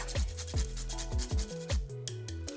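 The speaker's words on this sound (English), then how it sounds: "I will grate some nutmeg" Whole nutmeg rubbed against a grater over a pot of chicken dhansak gravy, giving a series of short, close rasping strokes in an uneven rhythm with a low tonal hum underneath.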